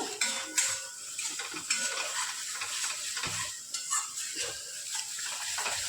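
Shrimp sizzle and fry in a pan of oil with salt while a utensil stirs them, producing continuous crackling sizzle and repeated scraping strokes close by.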